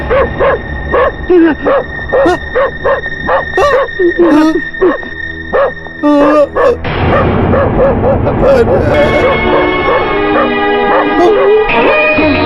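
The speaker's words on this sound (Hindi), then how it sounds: "सर, कुत्ते को यहाँ क्यों लेकर आए हो?" A police sniffer dog, in a comedy scene at a station lockup, barks and yips in rapid repeated bursts, loud and close, then a dense mix of whimpers and background voices and music fills the rest.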